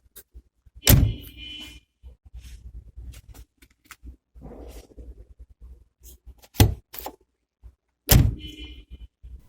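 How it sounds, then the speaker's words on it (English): A new Land Rover Defender 300Tdi door slams shut with a solid, heavy thud, followed by quieter clicks and handling, then two more firm door closes. "the door sound is a sound that only exists on new Defenders"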